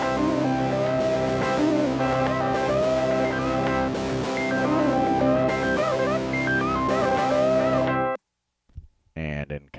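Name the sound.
Big Rippers sample in a music production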